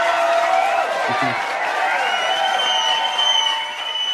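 A large audience claps and cheers loudly and continuously, with whoops mixed into the sustained applause before it starts to fade.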